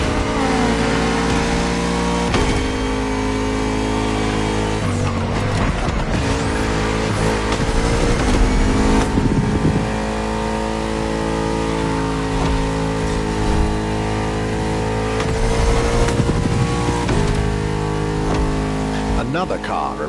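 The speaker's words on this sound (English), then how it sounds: "The Bugatti Vision GT." Bugatti Vision GT from a video game, its engine revving loud and steady with rising and falling pitch, under continuous backing music.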